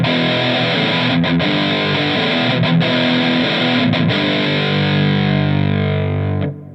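A heavily distorted electric guitar played through a Koogo Metal Muff distortion pedal holds thick, saturated rhythm chords with a few brief gaps between strums, then cuts off abruptly near the end.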